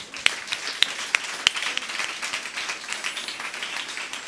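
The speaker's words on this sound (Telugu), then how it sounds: "గట్టి చప్పట్లు కొట్టండి." A church congregation claps at a Hermon Ministries service, a sustained stretch of fairly close applause with a few sharp, distinct claps standing out early on.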